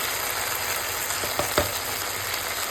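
Chicken cooks with spices in a pan, giving a steady, moderately loud sizzle with a few brief stirring clicks and no talking.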